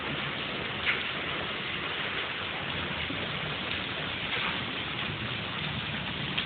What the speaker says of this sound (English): Softball size hail.